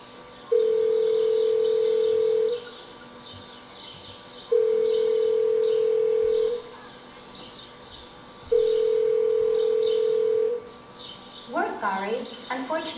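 Telephone ringback on an unanswered call, three long steady tones evenly spaced about four seconds apart, loud and clean, with faint chirping in the background and a voice starting at the end.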